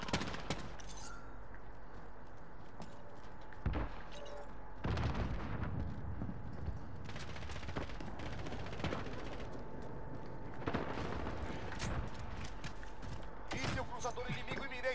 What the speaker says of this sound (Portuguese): Cara com a pistola, ele dá tiro no meu pé